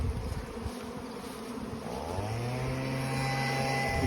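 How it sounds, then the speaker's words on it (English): A swarm of bees buzzes around a truck, a dense, steady hum close by, joined midway by a rising, droning motor tone that keeps going to the end. "Gobs of bees."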